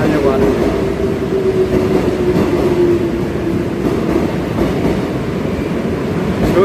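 A subway train rumbles steadily through a station platform at Guil Station, a continuous loud roar with a faint high whine and no voices.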